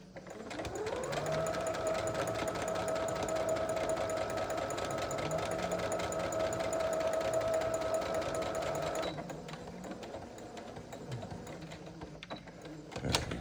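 Sewing machine stitching through vinyl fabric, a fast, even mechanical whir with rapid needle clatter running steadily for about nine seconds, then stopping, followed by faint handling clicks and rustle.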